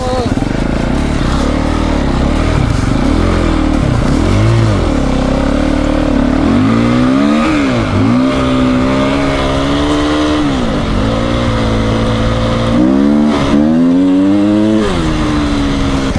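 A two-stroke enduro motorcycle on an off-road riding course, its engine revving hard in repeated rising and falling sweeps, loud and close throughout, with people talking over it.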